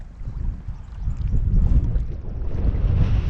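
Wind gusting across a lake around a boat out for walleye, pike and smallmouth fishing at West Hawk Lake, a steady low roar with buffeting microphone rumble that swells and eases, with no one speaking.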